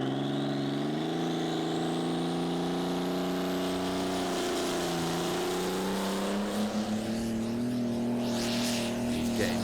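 A heavy tractor-pulling engine at a pulling championship final roars loudly and continuously under strain during a full pull, its pitch rising slightly and holding steady as it pulls hard; no talking.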